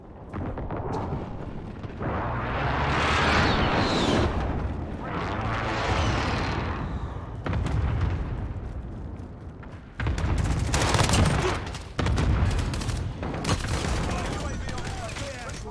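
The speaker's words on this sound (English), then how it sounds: "Allied cluster strike inbound." Rumbling blasts and crackling gunfire from a cluster airstrike in Call of Duty: Warzone, loud and dense in overlapping bursts, with sharp new impacts near the end and game voice lines mixed in.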